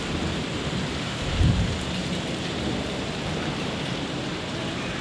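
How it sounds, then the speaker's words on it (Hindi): Heavy thunderstorm with steady loud rain pouring outside at dawn, a deep rumble of thunder swelling briefly near the start over continuous hiss of rainfall, no voices. "इतनी जोर से बिजली कड़की,"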